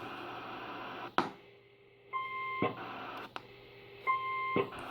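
Short electronic roger beep tones from an AnyTone AT-5555 CB radio sound repeatedly between bursts of radio static and hiss, with clicks as the transmission keys on and off, several times.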